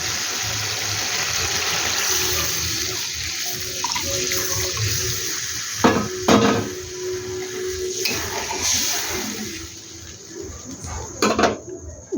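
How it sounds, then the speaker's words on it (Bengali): Water pours steadily into a cooking pot of spiced gravy for flour-dal fritters, a continuous close splashing rush with a few clanks of the pot near the end. "এখানে এবার আন্দাজ মতন জল দিয়ে দিলাম"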